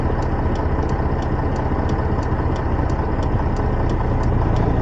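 A semi truck engine idles while waiting to pull out, a loud, steady low diesel rumble with a regular ticking pulse throughout and no talk.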